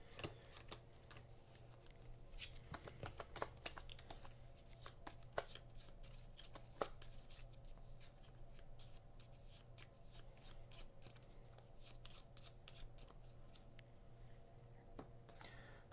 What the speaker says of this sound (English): I'm going to just start shuffling these while you take your turn so that we're ready.